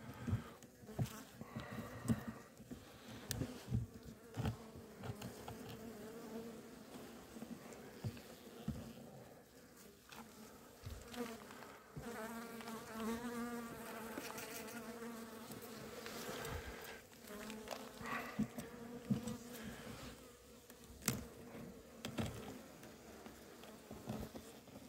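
Honey bees buzz around a hive in cold weather, a low, wavering hum with bursts of louder buzzing as insects pass close, over faint handling rustles and knocks.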